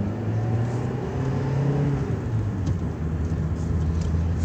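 A 2020 Suzuki Swift Sport Turbo, front-wheel drive, pulling away from a stop, its engine note rising steadily as it moves off, heard from inside the car with no voices.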